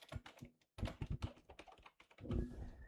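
Close, quiet computer keyboard typing in quick irregular bursts of key taps with brief pauses, ending in a slightly denser cluster of keystrokes.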